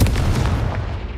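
A Confringo spell in the Hogwarts Legacy video game lands as a single heavy, booming blast that fades over about a second, loud and deep with no talking.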